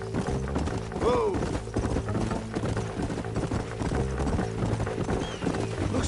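Horses' hooves clip-clop steadily in Red Dead Redemption, a continuous rhythmic trot of close hoof strikes with a brief whinny early on over low background ambience.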